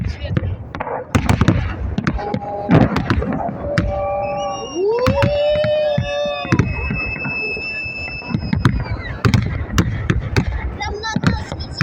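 A Victory Day fireworks salute bursts over Vorobyovy Gory in Moscow, with repeated booms and crackling pops, a few whistling rockets, and a crowd talking throughout.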